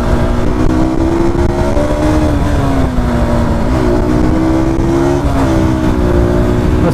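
A KTM RC200 BS6 sport motorcycle engine revs loud and close, its pitch rising and falling in steady sweeps and holding at a strong throttle throughout, with no talk over it.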